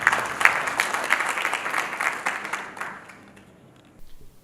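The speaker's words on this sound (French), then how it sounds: "Je pense que Elena mérite nos applaudissements." A conference audience applauds a panel speaker, a dense burst of clapping that holds steady for about three seconds and then trails off into near silence.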